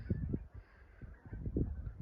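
Geese honk repeatedly in the background at Clayton Lake, New Mexico, at sunrise, a flock calling in uneven bursts from some distance, with no talking.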